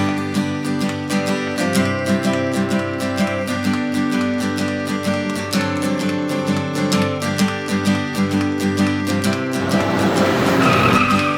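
Cartoon car driven chaotically, with loud, sustained tire squeals and skidding over an engine, rising to a harsher scraping burst near the end.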